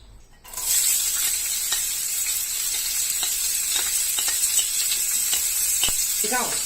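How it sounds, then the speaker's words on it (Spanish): Sofrito for chicken and rib rice fries in a pan with a steady, close, crackling sizzle, broken by occasional stirring taps, and a brief voice is heard at the very end. "es muy importante el grado de frito del sofrito, o sea que tiene que estar muy hecho sin llegar a quemarlo"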